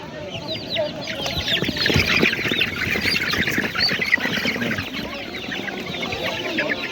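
A crowd of chickens at a poultry market clucks and squawks continuously, with overlapping calls from many birds close by in a busy, noisy setting and faint voices in the background.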